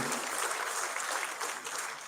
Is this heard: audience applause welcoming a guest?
yes